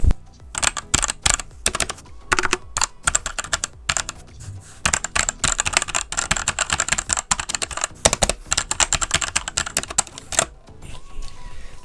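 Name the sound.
typing clicks on a Cooler Master CK550 v2 keyboard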